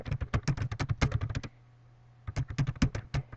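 A note is typed on a computer keyboard in quick bursts of close, crisp key clicks, with a pause of about a second in the middle before the typing resumes, no one speaking.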